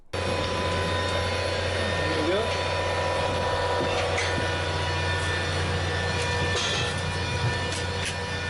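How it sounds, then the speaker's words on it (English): Convair 580 turboprop engine winding up for a run-up, a steady loud drone with rising whine tones throughout, heard close with no pauses. "we prepare the machine to start the engine and go for the run up"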